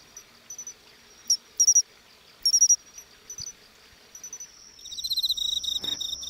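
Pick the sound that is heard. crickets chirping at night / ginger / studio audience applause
crickets chirping at night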